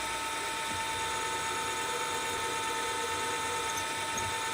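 A drill bit bores steadily into a metal workpiece held in a vise during a filing and metalwork practice task, a continuous high whine that holds even and loud throughout, with no one speaking.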